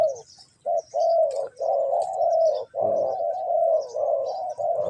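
Birds calling in the Khao Yai forest, bantam chickens nearby: a steady, loud run of mid-pitched cooing and warbling notes in repeated bursts, with faint higher chirps scattered above and no talking.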